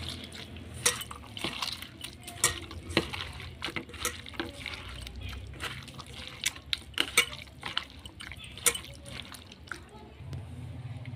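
Rohu fish roe mixture squished and kneaded by hand in a bowl, giving repeated wet squelching and soft slapping sounds in an irregular rhythm, close and moderately loud.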